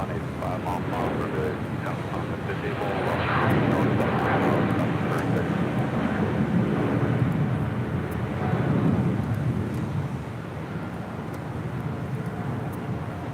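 An EVA Air Boeing 777-300ER jet departs for Taipei, a broad steady engine roar that swells and fades from a distance, with no talking.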